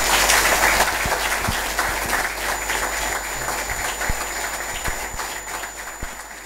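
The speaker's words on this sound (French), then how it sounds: "des applaudissements nourris pour remercier tous ces partenaires financiers et commerciaux" An audience at a sponsor event thanks financial and commercial partners with sustained, loud applause, dense clapping filling the whole stretch and tapering slightly toward the end.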